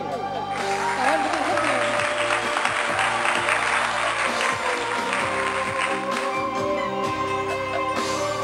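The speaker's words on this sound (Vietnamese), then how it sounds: "Xin cho một tràng pháo tay thật to." At an offline gathering of a local music lovers' club, the audience claps in a steady patter under live music and a singing or speaking voice, continuing for several seconds.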